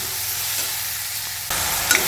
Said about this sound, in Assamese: বিলাহীখিনি প্ৰায় ভাজি হৈ গৈছে।